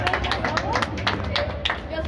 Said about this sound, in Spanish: ¡Esos aplausos para la muchachona!